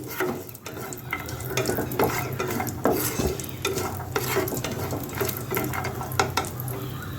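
Cashew and almond pieces fry in a pan, a steady close sizzle broken by frequent scraping stirs and light clinks of a spoon against metal throughout, with no talking.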